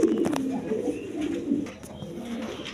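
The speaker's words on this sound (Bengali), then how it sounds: "বন্ধুগণ এইখানে এক পেয়ার মসলদম কবুতর আছে" A pair of Muslidom pigeons, colouring golla Giribaz pigeons sitting with two chicks, coo in soft, repeated low murmurs nearby, with a few sharp knocks and faint background sounds.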